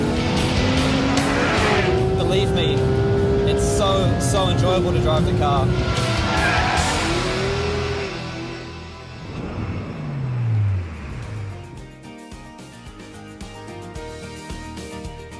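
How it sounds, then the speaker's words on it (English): Porsche 911 GT3 RS sliding around the Nardò racetrack, engine roaring loudly with tire squeal and skidding as it moves, fading after a few seconds, while someone talks over it throughout. "The way it's moving around, it's sliding, it's reacting to every one of my inputs."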